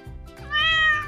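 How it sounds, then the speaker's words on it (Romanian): A cat yowls once in a Brookhaven video game, a loud drawn-out wail rising and falling, alone over a low background hum. "Ce e acel sunet? Zici că e o pisică pe moarte!"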